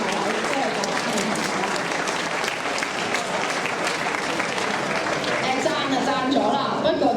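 Sustained, dense applause from a school audience after a senior students' drama competition performance, with clapping steady and loud throughout and the murmur of the crowd underneath.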